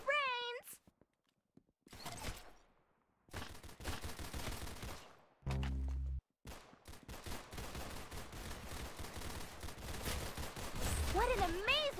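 Gunfire in the video game Roblox Arsenal, several bursts of shots in close succession, loud and punchy, mixed with game music and effects.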